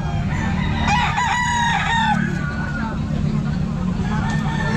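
Stag rooster crowing at a busy pet market, one drawn-out crow close by over constant crowd babble and nearby voices talking.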